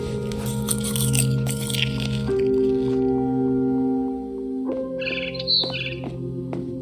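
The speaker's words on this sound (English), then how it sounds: "Then I heard chirping outside my window. It was a barn swallow going back to her nest." A barn swallow chirps outside a window in the video game What Remains of Edith Finch, with short bright tweets over a sustained tonal game ambience, first early and then again near the end.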